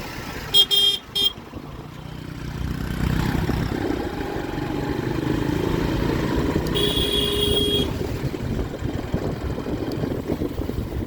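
Motorcycle engine hums steadily through traffic, with a couple of short horn honks early and another horn blast later in the ride.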